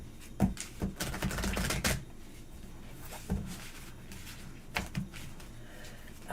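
Tarot cards being shuffled and cut by hand: bursts of riffling and soft slaps, a longer flurry early on followed by scattered sharp taps, close and alone with no voices.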